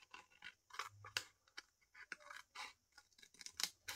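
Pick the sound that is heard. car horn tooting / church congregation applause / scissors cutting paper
scissors cutting paper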